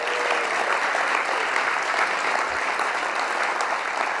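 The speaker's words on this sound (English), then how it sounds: "Can we give a round of applause to the Strong Words organizing team?" Audience applause at a Strong Words spoken-word performance event, a thick, even roar of clapping from a sizable crowd sustained steadily for about four seconds with no speech.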